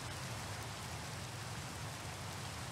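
Steady rain falls continuously in the Minecraft video game, a soft, even hiss with no breaks, quiet and alone.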